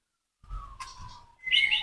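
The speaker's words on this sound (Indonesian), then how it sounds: "Saya lagi ngumbar cucak hijau soalnya." A greater green leafbird calls nearby, giving a thin whistled note and then a brighter, higher chirping phrase. The calls are brief and moderately quiet, with no talking.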